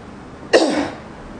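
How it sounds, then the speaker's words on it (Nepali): One short, forceful cough from a seated person with a hand pressed on the belly during an abdominal exercise, sharp at the start and trailing off quickly against a quiet room. "पेटमा राखेर मज्जाले एकचोटि खोकेर हेर्नुस् है।"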